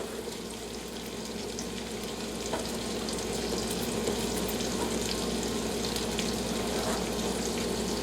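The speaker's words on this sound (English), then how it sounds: "let this hang out at kind of a low heat and sweat the onions" Onions, green pepper and celery sweating in melted butter in a pan over low heat, giving a continuous soft sizzle and crackle that stays close and steady and grows slightly louder partway through.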